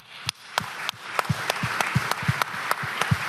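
A conference audience applauds after a speaker's prompt, the clapping rising from a few sharp, separate claps into steady, dense applause that holds close and loud.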